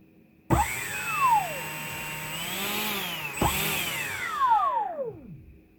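DIY jetsurf electric motor on a dying battery, spinning up with rising and falling whines in two separate bursts, each sweeping up in pitch and then winding down, loud and close with no talk.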